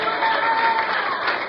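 Congregation applauding during a church service, a brief, steady burst of many hands clapping at close range with no voices standing out.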